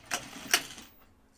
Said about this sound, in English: I'm going to use my machine